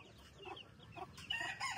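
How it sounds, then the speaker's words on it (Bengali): Chickens near a new coop clucking softly, with a few short, faint calls and a louder burst near the end, at close range in a quiet setting. "আর এখানে আপনাদের একটু মুরগিগুলো দেখাই দিই।"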